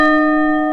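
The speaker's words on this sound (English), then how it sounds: "I want to stop the bell." Church bell ringing with a loud, close, sustained metallic tone and steady overtones, heard alone in one brief stroke.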